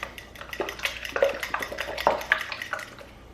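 A cracked egg is mixed into banana bread batter in a bowl with quick, rhythmic utensil taps and wet scraping against the bowl, close and moderately quiet, with no talking.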